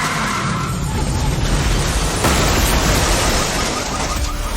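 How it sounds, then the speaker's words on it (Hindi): A car accident sound effect bursts in loud and close: a harsh skid of tires followed by a crashing impact, dense noisy roar filling the whole moment without speech. "उन्हें उनके घर के बाहर कोई एक्सीडेंट होने की आवाज आई।"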